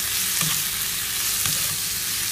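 Razor clams stir-fried in red curry paste in a hot pan, a loud continuous sizzle with scraping stirs, steady and close throughout.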